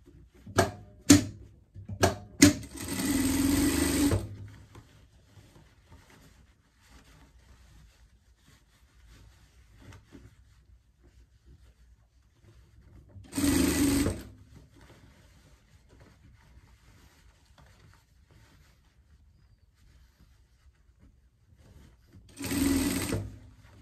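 A domestic sewing machine stitches a pet dress in short bursts: a few quick taps, a roughly one-second whirring run, then two more brief runs spaced about ten seconds apart with near silence between.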